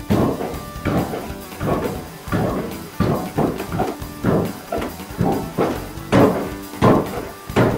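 Blacksmith hammering a small metal rod at a forge during a smithing festival in Gdańsk, a steady series of sharp ringing blows at an even rhythm, close and loud.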